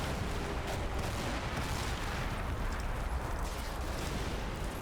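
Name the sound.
anti-aircraft vehicle firing at a building, Combat Mission Cold War video game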